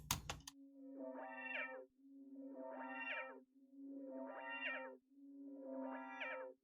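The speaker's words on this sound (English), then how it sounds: "the way I introduce it is with a filter, automating the cutoff frequency" Sytrus synth pattern made in FL Studio, heard as four repeating phrases over a sustained low tone, each sweeping from dull to bright as the filter cutoff is automated, after a short sharp burst at the very start.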